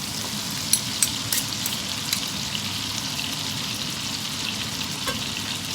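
Food fries in a pan with a steady, dense sizzle and scattered crackling pops near the start, close up and without any talking.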